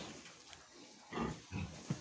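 A newborn Kantor Petren piglet from a gilt's first farrowing gives three short grunting squeals close by, with quiet pauses between them.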